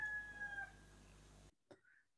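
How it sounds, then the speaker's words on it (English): A rooster crows faintly in the background, rising briefly from a quiet room before the sound cuts to near silence, with only a short call after the break. "like the rooster in the background, right?"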